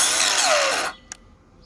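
A Ryobi cordless power tool runs on a 9 amp hour battery, a loud broadband whine that sags in pitch, then cuts out abruptly. A short faint click follows in near-quiet.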